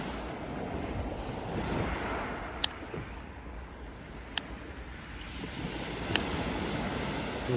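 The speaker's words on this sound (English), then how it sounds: "The wind changed direction." Surf rolls steadily onto Preston Beach in Weymouth as wind gusts across the microphone, a continuous wash of waves and blustery rumble broken by a few sharp clicks.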